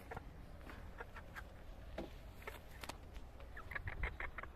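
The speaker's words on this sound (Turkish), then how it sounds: "Bu bizim horozumuz." A farmyard rooster in a village coop clucking in short scattered bursts, faint and somewhat distant over a quiet background, with no talking.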